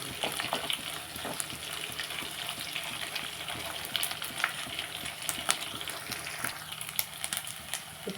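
Onions for a gongura and dried prawn curry fry in a pan with a steady, close hiss and crackle and occasional stirring scrapes, with no talking.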